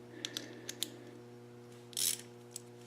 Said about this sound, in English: we'll use a little 1/4-inch drive to get them in here